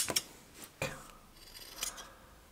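High-quality Robuso scissors snip through technical fabric in three crisp, close cuts, each a sharp rasping slice with short pauses between.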